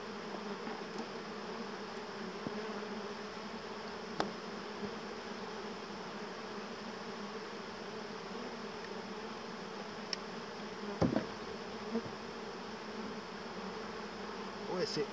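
A large swarm of honeybees from a very strong colony buzzing inside a crowded wooden box, a steady dense drone with a few faint knocks and handling sounds.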